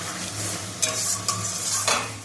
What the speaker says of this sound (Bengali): তো দেখো বন্ধুরা, বাটা মাছের ঝাল হবে, তো তার জন্য এই যে মশলা কষানো হচ্ছে।